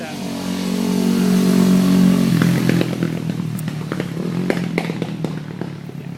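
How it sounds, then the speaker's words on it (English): A loud motorcycle with its exhaust baffle removed, a dirt bike converted for street use, roars up close, then settles into a rough, crackling idle with sharp popping clatter. "here comes an annoying motorcycle"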